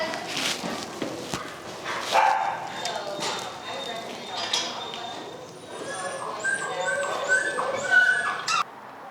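A dog whimpers and gives short barks in a training facility during a first social meeting with other dogs, the calls close and recurring throughout amid other background noise.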